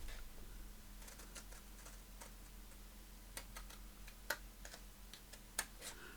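Scissors cut out a paper photograph of a person. Soft, sparse snips and ticks sound faintly in a quiet room, with a couple of sharper cuts near the end.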